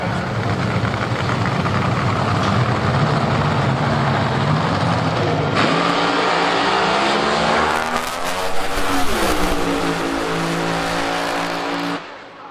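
A nitro drag racing car makes a full run down the track at an IHRA Nitro Jam event: a loud, roaring engine blast that holds, then drops in pitch as the car pulls away and fades.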